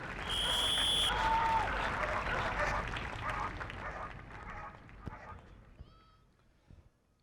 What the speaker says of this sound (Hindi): जोरदार तालियां श्वानों के इस बेहतरीन प्रदर्शन के लिए